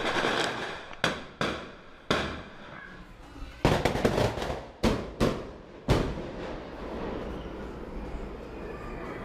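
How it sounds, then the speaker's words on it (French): Mortar shots fired in a Rio favela: a string of loud, sharp bangs, some closely bunched and others spaced apart, each fading into a rolling echo over steady outdoor background noise. "Le bruit, c'était à nouveau des tirs de mortier pour dire que nous sommes là."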